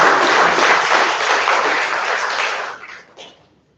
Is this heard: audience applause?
yes